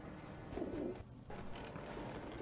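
Pigeons coo on the rooftops in the video game Alice Madness Returns, soft throaty calls over a murky ambient bed, moderately faint, with no speech.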